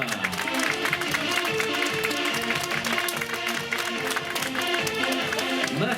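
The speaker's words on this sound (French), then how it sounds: "Applaudissements" A crowd claps continuously and fairly densely at a half marathon prize ceremony at the Corrida de Seurre, with the applause carrying steadily for several seconds amid some background murmur.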